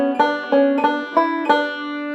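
Banjo picking the Liberty tag at a quicker tempo, bright plucked notes ringing in a steady rhythm with five distinct attacks, close and clear with no talking.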